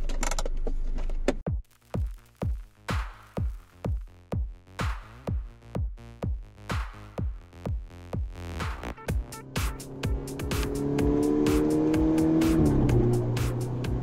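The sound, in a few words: Golf 6R car driving and accelerating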